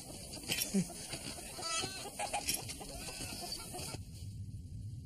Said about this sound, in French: Il y a des poules.